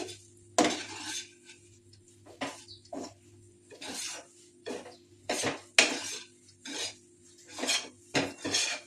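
A spatula scrapes and stirs dry green pea filling for atta kachori in a frying pan over a gas flame, making repeated close metallic scraping strokes in an irregular rhythm, with no talking.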